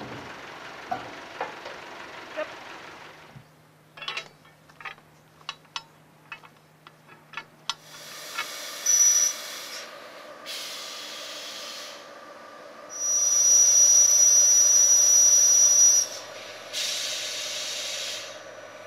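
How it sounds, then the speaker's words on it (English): Steam hissing under pressure into large timbers inside a pressure treatment cylinder, opening the wood before chemical treatment. Scattered clicks and ticks lead into several loud, sustained hissing bursts, some with a shrill whistle on top, separated by short pauses. "pressure to force steam into the timber, to open up the pores of the wood for the chemical treatment to follow"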